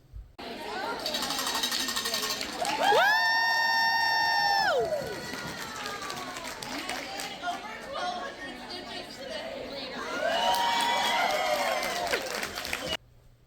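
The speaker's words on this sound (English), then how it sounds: "so I shake it, and everybody clapped" An audience at a stitching retreat claps after a bell is shaken. Sustained applause fills the room alongside excited whooping voices and crowd chatter, rising again in a second burst near the end.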